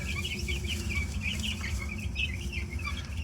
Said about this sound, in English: I think we have 34 baby chicks.